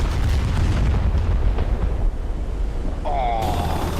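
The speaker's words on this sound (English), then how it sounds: "you impacted on the side of the ship rather than on the runway" In the DCS flight sim, an aircraft slams into the side of a ship with a heavy, rumbling explosive crash that fills most of the moment. A brief warbling alarm tone follows as the roar fades.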